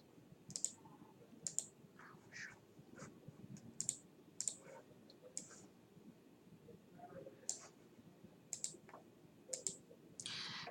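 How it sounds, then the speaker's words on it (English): Faint computer mouse clicks while working in Excel: about a dozen sharp, sparse clicks, some single and some in quick pairs, in a quiet room. "now I can click OK"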